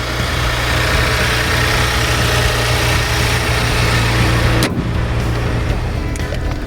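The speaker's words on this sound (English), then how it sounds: "no active exhaust, but it sounds not bad for a V6" A 2017 Maserati Ghibli V6 without active exhaust runs loud and steady at close range with a deep, constant drone, then the tone drops suddenly near the end as the engine settles to a lighter idle.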